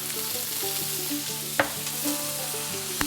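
Onions frying in a little oil in a pan for corned beef hash, a steady close sizzle with a few soft stirring clanks and scrapes, no talking.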